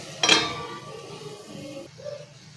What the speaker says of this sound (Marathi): आता पुन्हा झाकण ठेवते